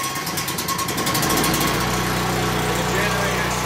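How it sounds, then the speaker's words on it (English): A portable generator on an auto detailing trailer starts by remote, cranking briefly and then settling into a loud, steady, close idle with a constant buzzing hum while a voice talks over it. "And the generator starts right up."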